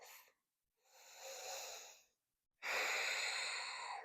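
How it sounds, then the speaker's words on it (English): A full, deep breath taken during a yoga stretch: a soft drawn inhale, a pause, then a longer, stronger airy exhale, close and alone. "Let's take one more full breath."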